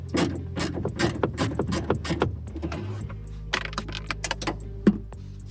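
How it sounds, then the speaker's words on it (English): A ratchet with a 9mm socket loosening the seat belt slider bolts inside a 1998-2011 Ford Ranger single cab, giving quick close bursts of rapid clicking that pause and resume, with a few louder knocks. "So I'm gonna get in here with a 9mm and a ratchet."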